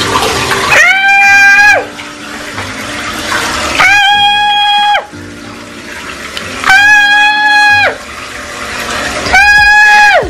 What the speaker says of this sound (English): now let's turn the water on the top